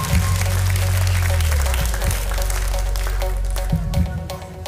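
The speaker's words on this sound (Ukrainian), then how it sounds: "Ці оплески для тебе" Studio audience at a live broadcast of the singing contest X-Factor, season four, applauding a contestant, with steady loud clapping and music underneath throughout.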